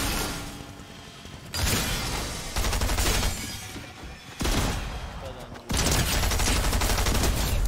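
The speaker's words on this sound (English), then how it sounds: "So look, you can shoot like this on the ground and it shoots onto him." Bursts of rapid automatic gunfire in a Fortnite match, several sustained volleys separated by short pauses, loud and close, with a voice talking now and then.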